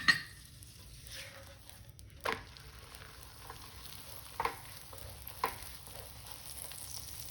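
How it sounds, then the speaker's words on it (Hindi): Chana dal paratha fries in ghee on a flat pan with a soft, continuous sizzle, broken by a few sharp clinks and scrapes of a spatula as it is handled and turned. "अब जनाब इसके ऊपर घी या ऑयल जो भी आप पसंद करें वो डाल के हम इसको फ्राई करते हैं"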